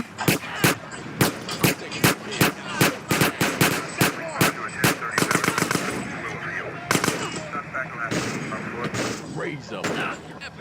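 Gunfire in the video game GTA San Andreas: loud rapid bursts of sharp shots in quick irregular succession, thinning toward the end.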